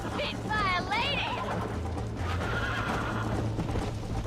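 A horse in the Red Dead video game whinnies loudly in rising and falling cries, then its hooves clatter in a steady gallop that continues under game noise to the end.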